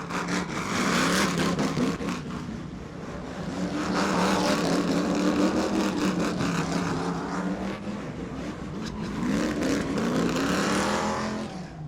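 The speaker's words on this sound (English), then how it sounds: "George burnout in front of Derek Pugh" A car engine roars and revs hard with screeching tires, a loud, sustained burnout at a weekly racing event at New Smyrna lasting the whole stretch.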